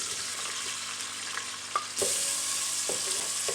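Onions sizzle in hot oil in a cooking pot, a steady loud frying hiss that swells sharply midway, with faint stirring scrapes and small pops throughout.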